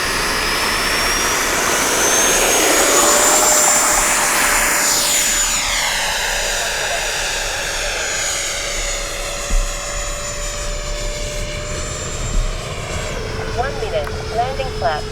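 An FMS 70mm F-18 RC jet flies past, its electric ducted fan roaring loud and close with a falling whine and then fading into the distance, while a voice talks over it.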